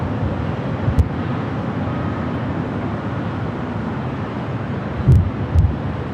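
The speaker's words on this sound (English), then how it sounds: "It's good and windy up here." Steady wind roars and buffets against the microphone throughout, with a couple of brief low thumps, at Los Angeles International Airport (LAX).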